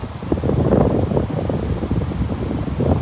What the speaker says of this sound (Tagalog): dito na siya nanggagaling yung hangin